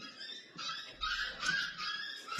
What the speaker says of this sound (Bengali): কুকুরগুলো কেমন করছে?